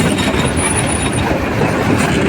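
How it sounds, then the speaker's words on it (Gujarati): A loud, close train rolls past with a dense rumble of wheels on track and a thin high squeal, no voices heard. "આપણી ટ્રેન આવી ગઈ છે"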